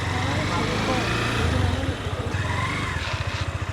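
A motorcycle rides through a busy wholesale mango market with a close, pulsing engine chug that turns into a rapid, throbbing idle rhythm, and surrounding market noise and voices mix in.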